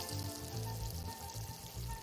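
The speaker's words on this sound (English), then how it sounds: "you'll find yourself frying eggs with tinned fish" Eggs frying with tinned fish in the video game Arctic Eggs, giving a steady crackling sizzle with soft pulsing bursts, moderately loud and without talk.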